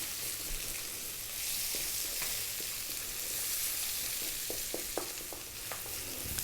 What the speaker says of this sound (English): Just a few seconds in the hot oil. Then we can add our onion. 3 minutes, high heat,